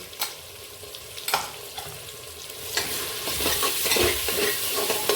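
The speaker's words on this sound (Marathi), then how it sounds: "असं आलं लसूण आपल्याला दरदरीत म्हणतो ना तसं कुटून घ्यायचं आणि तेही छान आपल्याला आता परतून घ्यायचं" Crushed ginger and garlic sauté in a pan for vegetable paneer pulao, a few spoon clinks giving way to a loud, building, continuous sizzle and crackle as it is stirred.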